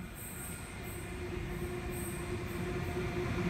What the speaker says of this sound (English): Here comes another Waratah rolling in.